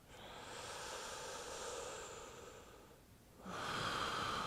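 During an intense yoga knee stretch, a person breathes slowly and steadily through a long, faint, airy exhale, pauses, then starts a louder, rushing breath, heard close and alone.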